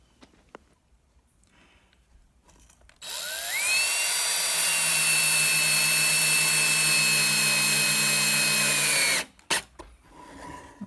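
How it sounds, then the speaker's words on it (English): A power drill drives a screw into a wooden shelf on a pressure pot tray in one loud, sustained whine lasting about six seconds. It rises in pitch as it spins up, with quiet handling noise before and after. "going to screw it in place for right now"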